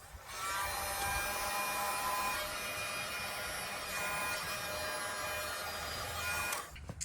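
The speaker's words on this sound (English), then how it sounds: "just a couple seconds with the heat gun to shrink that heat shrink" A heat gun blows hot air to shrink heat-shrink tubing over automotive wire connectors while installing heated turn signals and marker lights; its steady whining hum of fan and heater runs continuously and fairly loud for about six seconds, then cuts off.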